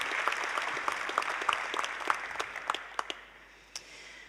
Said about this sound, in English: So if we could give them a quick round of applause.